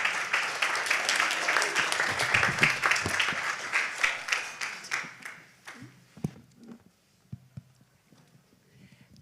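An audience at the 2023 Well City Challenge pitch competition applauds loudly and densely, then the clapping thins out and fades to a few scattered claps near the end.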